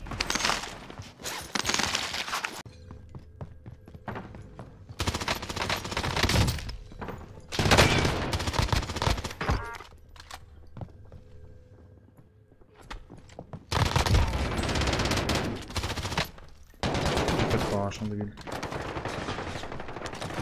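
Bursts of automatic gunfire and rapid single shots from the Call of Duty Warzone video game crack in clustered volleys, separated by brief quieter gaps, with excited players talking over the action.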